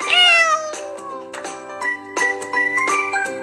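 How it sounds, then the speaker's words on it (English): A cat meowing in a string of clear, close, repeated meows with short pauses between them, heard alone with a faint tinkling beneath. "Cat."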